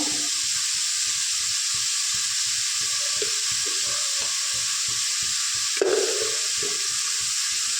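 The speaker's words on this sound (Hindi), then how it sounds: "और एक मिनट में फ्राई कर दो। मसाला फ्राई हो गया है" Masala spices for a rice-flour dhokla frying in a pan, a steady close sizzle with a rhythmic low pulsing under it and a brief stir clatter near the end, no talk.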